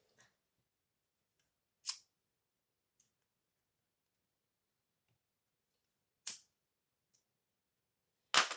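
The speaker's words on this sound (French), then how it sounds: "Je vais mettre un petit coup de briquet." A lighter is clicked to singe the cut end of a ribbon while making a scrapbooking tag: a few sharp, isolated clicks spaced seconds apart, with quiet between them and no talking.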